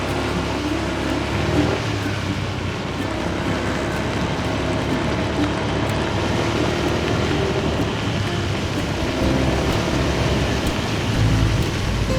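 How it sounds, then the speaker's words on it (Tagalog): Heavy rain pours steadily near San Roque Dam, a dense continuous hiss with low rumbling underneath, intensifying slightly toward the end. "Ayan, palakas na ng palakas na naman ang ulan."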